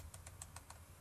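Quiet typing on a computer keyboard, about five light key clicks in quick, even succession over a low background hum.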